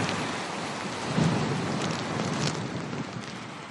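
Heavy rain pours steadily with gusting wind over a dawn thunderstorm in Lisbon, a low rumble of thunder swelling briefly in the middle beneath the constant hiss.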